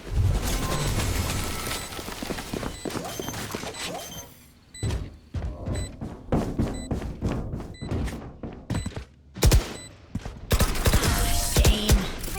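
A spike detonation in a competitive Valorant match sounds as a sharp, loud blast amid choppy game effects, with beeping and thumping bursts around it.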